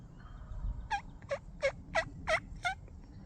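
A wild turkey gobbler calls in spring woods on Michigan public land, six quick, evenly spaced gobble notes at moderate distance with a quiet outdoor background.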